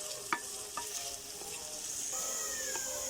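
Potatoes sizzle steadily in a frying pan for a Spanish omelette, with a few sharp metal spoon scrapes and clinks as they are stirred, close and fairly quiet, with no talking.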